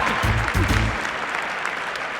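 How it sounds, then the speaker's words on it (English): Audience applause for fitness contestants at the 1997 Arnold Sports Festival Fitness International: broad crowd clapping under a voice at the start, then continuing as a steady, fairly distant wash. "How about a round of applause for the contestants?"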